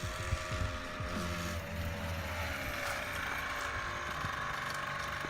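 A Beta RR 50 SM 50cc supermoto motorcycle engine and exhaust drone steadily at a distance, a faint continuous buzz under wind noise across the whole stretch.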